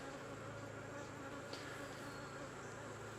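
Honey bees buzzing at a hive brood box, a dense, steady swarm hum close up and faint, with no talk.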